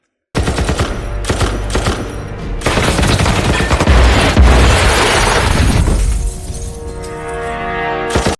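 Rapid automatic gunfire from Scar L, M4 and UMP rifles in a firefight, loud sustained bursts with shattering impacts, nearly unbroken for several seconds.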